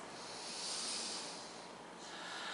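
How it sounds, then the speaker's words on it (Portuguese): A long, steady nasal inhale with the tongue held behind the teeth, heard close and alone as a soft, airy hiss lasting a couple of seconds. "Você põe a língua aqui e inspira pelo nariz."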